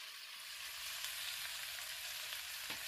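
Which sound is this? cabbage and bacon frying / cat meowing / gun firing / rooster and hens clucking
cabbage and bacon frying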